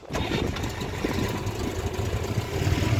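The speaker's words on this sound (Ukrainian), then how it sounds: "Заводимо без педалі газу." A Moskvich 2140 car engine is started without pressing the gas pedal and settles straight into a steady, close, low rumbling idle that runs unbroken with no talk.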